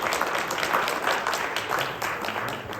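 Applause from the audience at a medical symposium in Istanbul, a steady dense wash of clapping that fills the whole stretch at even loudness, close and continuous.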